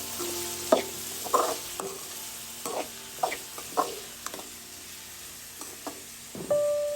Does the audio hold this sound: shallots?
yes